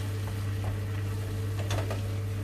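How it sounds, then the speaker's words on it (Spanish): Onion sautés in a pan for homemade chicken croquettes, giving a steady soft sizzle with a few scraping stirs near the end, close and alone without talk. "Se sofríe un poquito la cebolla"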